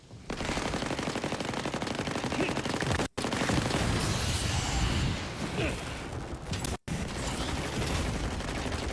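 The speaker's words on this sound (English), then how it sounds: "Nice to see those turrets are taking care of them." Dense, continuous automatic turret gunfire in the video game Borderlands 4, loud rapid bursts filling the mix with overlapping shots and impacts, cut by two brief silent gaps.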